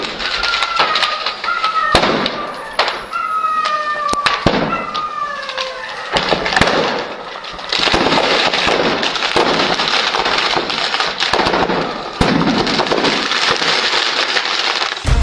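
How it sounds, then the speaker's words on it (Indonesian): Rapid bursts of celebratory gunfire crackle and pop repeatedly in the open air, dense volleys with whistling tones early on, loud and continuous. "Sebagai perayaan gencatan senjata, tembakan dilepaskan ke udara."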